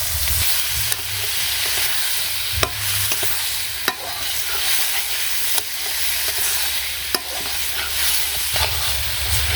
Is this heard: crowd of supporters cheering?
no